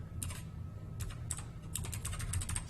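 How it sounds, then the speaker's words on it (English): Slow typing on a computer keyboard, a handful of sparse, uneven key clicks in small clusters with pauses between, close and clear over a low background hum. "Forgive my slow typing."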